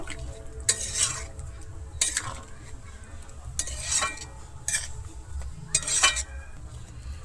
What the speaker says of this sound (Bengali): আর দিচ্ছি গুঁড়ো গরম মশলা দিয়ে আমি আবারও খুব ভালোভাবে এখানে মিশিয়ে নেব